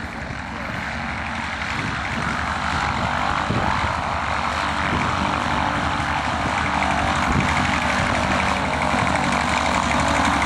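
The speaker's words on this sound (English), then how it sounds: "there goes the Cessna 195 business flight" A vintage Cessna 195 propeller plane passes at an airshow, producing a loud, continuous droning engine and propeller roar that stays strong and steady throughout.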